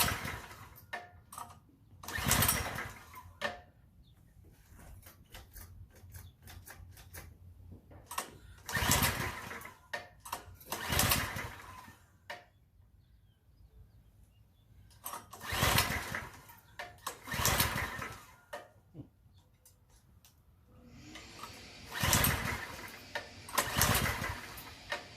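A TrailMaster MB200 minibike's small engine is cranked over and over with the choke on, giving about eight short churning bursts separated by quiet pauses, and it never catches. The sound is moderately close but fairly faint.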